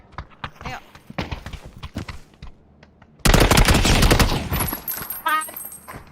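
Gunfire in the game PUBG: scattered single shots and footsteps give way to a loud, dense burst of rapid automatic fire, followed by trailing shots and ringing effects.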